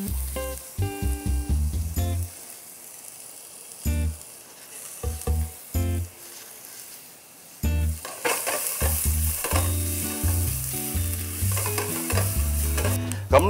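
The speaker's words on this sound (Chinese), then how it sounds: "我哋就將呢啲洋葱擺落去炒，炒到佢" Onions stir-frying in a pan, close crackling sizzle with repeated spatula scrapes and stirring bursts, pausing briefly before turning into a denser, continuous fry.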